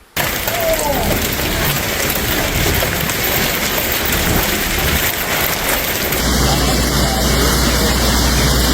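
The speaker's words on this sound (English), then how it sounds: "the rain over Drenas didn't ease, it intensified." Heavy rain falls during a storm: a steady, loud, broadband hiss of pouring water, unbroken for several seconds with no talk.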